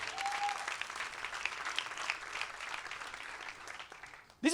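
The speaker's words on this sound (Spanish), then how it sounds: "un aplauso para Dieguito" A church congregation applauds in a fairly faint, continuous patter of clapping that fades toward the end, just as a voice breaks in.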